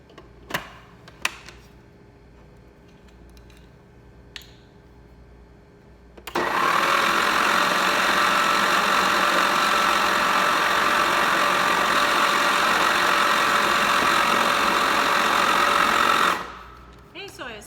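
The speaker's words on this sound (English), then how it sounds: "I'm going to turn it on again, and I'm going to add in the olive oil as it's as the food processor is spinning." Food processor motor spinning steadily while olive oil is poured in for spruce tip pesto, a loud continuous whir starting abruptly after a few quiet seconds and stopping about ten seconds later.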